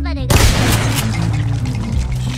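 Heavy revolver fired in a Roblox game, a loud booming shot breaking in sharply after a brief lead-in, followed by a few further shots and rumbling reverberation, close and dominant.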